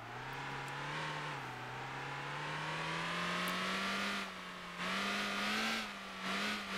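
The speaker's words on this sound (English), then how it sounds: "I can hear the engine." A car engine in the video game Motor Town drones steadily with rising and falling pitch as it revs, a continuous synthetic-sounding motor tone with brief dips in loudness.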